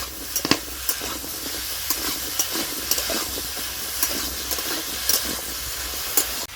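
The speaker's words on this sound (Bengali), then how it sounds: "কাঁচা টমেটো, দিয়ে ভালো করে একটু কষে নেব" Raw tomatoes with aubergine and potato frying in a pan, a steady hiss and sizzle running throughout with scattered clinks of a spatula stirring, close and moderately loud.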